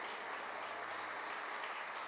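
Church congregation applause during a sermon, a steady wash of clapping held at an even level for two seconds, fairly distant and soft.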